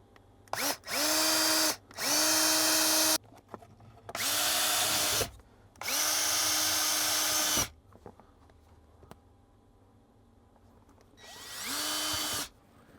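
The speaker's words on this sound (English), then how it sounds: "we're gonna go ahead and drill these 4 holes" A power drill whirs in five loud bursts of a few seconds each, separated by short quiet pauses, close by, drilling holes for a Jeep XJ center console MOLLE panel.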